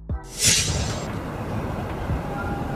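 A funicular railway car moving on a steep mountain incline, with a brief rush of air at the start and then a steady rolling rumble, moderately close and with no voices.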